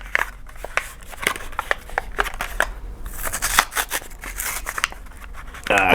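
Plastic blister packaging of a Porsche 1/64 die-cast model car being opened, with a run of sharp crinkling, snapping and tearing sounds close up, ending in a quick rattling burst; no one speaks.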